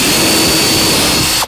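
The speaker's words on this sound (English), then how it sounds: "And now what we have to do is drill a 3/8 inch hole all the way through all this" A power drill boring a 3/8 inch hole straight through stacked 2x4 lumber for a wooden gantry crane, a steady loud whir that holds evenly for the whole stretch and then cuts off abruptly at the end.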